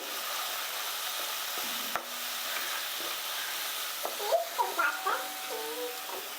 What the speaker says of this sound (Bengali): সামান্য পরিমাণ হলুদ গুঁড়ো সব মশলাগুলো এবার খুব ভালো করে কষিয়ে নেব